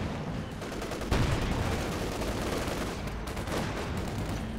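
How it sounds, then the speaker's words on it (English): Artillery and gunfire in the strategy game Company of Heroes 2, a dense continuous battle din of overlapping shots and booming impacts, one heavier blast near the start, loud with no clear talk. "There's a lot of artillery fire going on"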